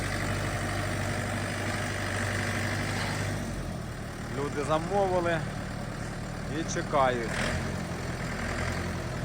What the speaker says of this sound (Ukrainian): Відвантажуємо Orion 504 Pro.